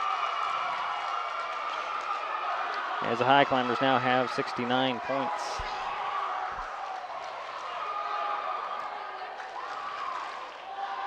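Spectators at a high school boys' basketball game, Elma at Shelton, keep up a continuous roar of cheering and applause, with a commentator talking briefly over the crowd noise.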